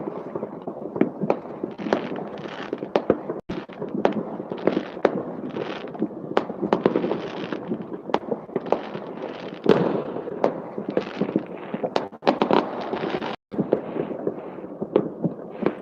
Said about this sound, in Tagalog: So, pag nagpaputok sila dito